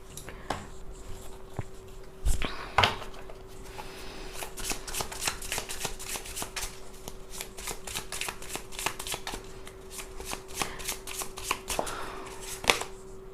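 Tarot cards being shuffled by hand in a quiet room, a long run of quick riffling and slapping card sounds, close and fairly steady, with a faint constant hum behind and no talk.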